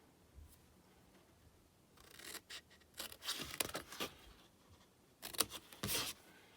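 Paper or cardstock being trimmed off a Stampin' Up! hand lotion gift box, heard as a few quiet, crisp cutting and rustling bursts separated by near-silence.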